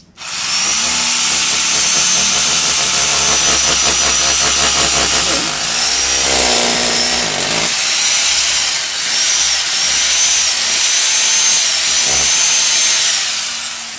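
A power drill bores a hole during a reinstallation job, running loud and steady for most of the stretch with a brief change in pitch midway, near and continuous until it winds down at the end.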